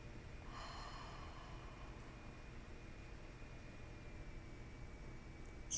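Soft, breathy exhale during a guided meditation, a steady airy rush that starts after a brief pause and carries on faintly and evenly to the end, with no talking.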